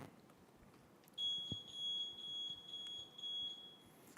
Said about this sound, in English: We've all heard that annoying beep from a gas detector.